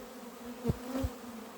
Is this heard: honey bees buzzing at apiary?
yes